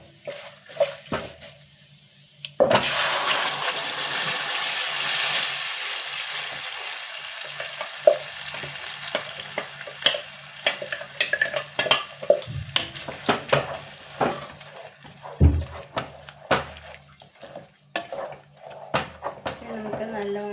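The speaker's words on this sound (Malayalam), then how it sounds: "ഇനി നമുക്ക് ഈ അരച്ചു വെച്ചിരിക്കുന്ന പേസ്റ്റ്, തക്കാളിയുടെ പേസ്റ്റ് നമുക്ക് അതിനകത്ത് ഇട്ട് കൊടുക്കാം." Tomato paste hits hot oil in a pan for tomato pickle and is stirred, giving a loud sudden sizzle that settles into steady frying with scraping stirs and utensil knocks; a voice talks over it.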